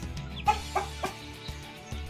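Chickens cluck in hot weather, with a few short, close clucks and squawks spaced over a couple of seconds against a low background hum.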